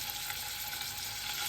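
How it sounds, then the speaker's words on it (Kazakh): Minced meat fries in hot oil in a pan, giving a steady, bright sizzle with faint stirring scrapes, close up and without talk. "Бірінші осы етті қуырып аламыз, артынан сосын пиязды салатын боламыз."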